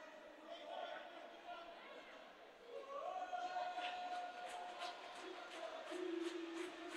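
A home crowd of DEI supporters makes noise at an under-10 youth game, chatter and shouting in a hall carried underneath a commentator's steady voice.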